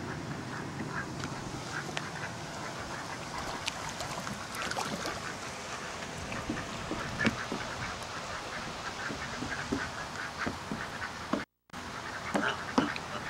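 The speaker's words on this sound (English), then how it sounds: "Give some to those ducks." Ducks quacking repeatedly outdoors by water, a busy mix of short calls at moderate distance over steady background noise, likely while bread is tossed to them.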